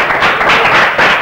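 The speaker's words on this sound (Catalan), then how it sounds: "Sons, un fort aplaudiment per a mi." Audience applause, a dense burst of many hands clapping close and loud, filling the whole moment with no pause.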